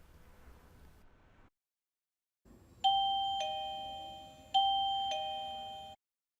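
A Fortress Type A doorbell receiver chimes after a brief quiet gap, sounding two clear two-note ding-dong tones, each ringing out and decaying before the next.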